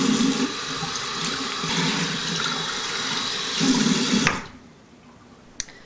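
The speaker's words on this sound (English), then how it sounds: "Turn on the water." Warm tap water runs steadily into a sink while clip-in Remy human hair extensions are rinsed, then cuts off sharply, leaving a faint drip and one small knock.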